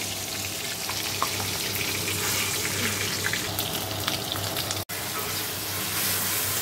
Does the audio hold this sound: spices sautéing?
yes